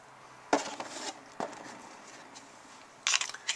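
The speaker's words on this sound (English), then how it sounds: "This is a 9mm Federal HST. And you see, they just load right into the magazine." 9mm Federal HST rounds are pushed into a .40 caliber magazine: a few close, sharp metallic clicks and scrapes, with short pauses between them.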